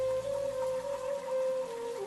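Heavy rain in a Hindi animated cartoon hisses in a steady wash over a constant sustained tone, with no voices.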